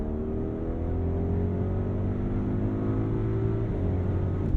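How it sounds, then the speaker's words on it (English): Twin-turbo V8 of an Audi RS Q8 or BMW XM super SUV downshifting and accelerating, a loud sustained engine roar with rising harmonic tones close by from inside the cabin, briefly dipping before climbing again. "It downshifted quickly. The twin-turbo V8 woke up in noise and in power."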